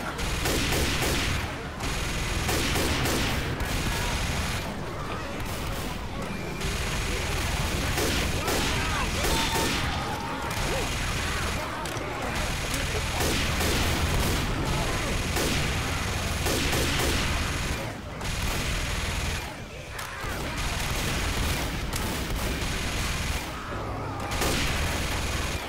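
Dense, continuous gunfire from the video game Left 4 Dead 2 rattles on without a break, loud and overlapping with crashes and other chaotic combat noise.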